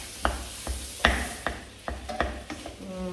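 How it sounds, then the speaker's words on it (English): Beef, pepper and onion fry in a pan, with a gentle sizzle and a series of sharp, regular scraping stirs of a utensil against the pan, close by. "I've got beef, pepper and the onion in the pan. So frying all those off"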